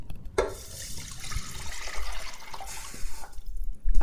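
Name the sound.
pouring water into a pan for miso ramen broth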